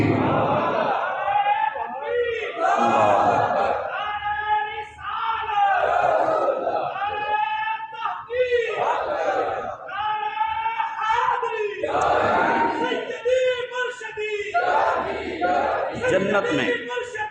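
A religious gathering's crowd chants slogans in unison during a sermon, loud rhythmic shouted bursts rising and falling in repeated call-like waves.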